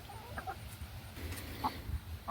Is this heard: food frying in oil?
no